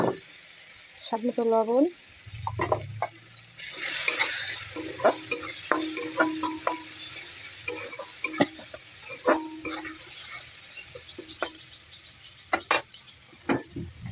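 Spice paste with turmeric frying and being stirred in a pan for a rustic village taro-stem and shrimp ghonto, giving a steady sizzle broken by repeated scraping and clinks of the spoon, with someone speaking briefly over it.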